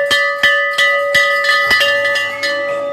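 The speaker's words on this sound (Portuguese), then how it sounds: "Toca o sino, pequenininho." A small hand bell rings in a quick, uneven series of about nine clear metallic strikes, loud and close, each leaving a short ringing tail.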